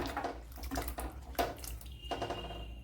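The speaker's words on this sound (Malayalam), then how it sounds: "അപ്പം രണ്ട് മൂന്ന് വെള്ളം നല്ലപോലെ കഴുകിയെടുക്കണം" Cut pieces of raw banana washed by hand in a bowl of water, soft sloshing and splashing with faint drips, quiet and close.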